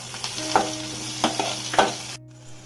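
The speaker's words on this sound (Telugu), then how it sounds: "స్పూన్ ఆయిల్ వేసుకొని ఆనియన్స్ వేయించుకోవాలి" Onions frying in oil in a pan with mint and coriander, for a kobbari coconut curry: a close sizzle broken by three sharp stirring scrapes, then the sound drops abruptly to near silence near the end.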